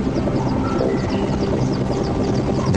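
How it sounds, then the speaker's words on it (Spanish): Helicopters fly over Chernobyl with a loud, continuous rotor drone and engine rumble that stays steady throughout, with no voices. "Desde el cielo, los helicópteros arrojan toneladas de un líquido pegajoso"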